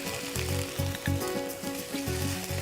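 Vegetables for sabzi qorma sautéing in a pan, a close, steady sizzle with rhythmic pulses as the mixture is stirred and fried, no talking.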